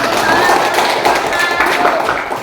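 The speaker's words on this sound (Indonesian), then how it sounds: "Ya, tepuk tangan." A classroom of students applauds after a group discussion presentation, giving quick overlapping claps that are loud and close, with a brief burst of voices mixed in.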